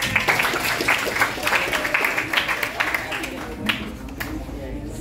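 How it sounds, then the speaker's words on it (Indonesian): Audience applause at a school presentation, steady broadband clapping that carries on throughout, then gradually thins toward the end. "Beri tepuk tangan."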